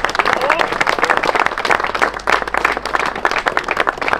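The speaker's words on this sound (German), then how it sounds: "Ein riesen Applaus mit Fastest Lap für Bitschiff" Crowd applause at a turbo-kart race prize moment, steady loud clapping from many hands throughout, with an announcer's voice over it.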